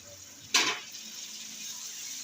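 Spices and yogurt hit hot oil in a pot for aloo pulao, giving a sudden loud sizzle that settles into a quieter steady frying hiss.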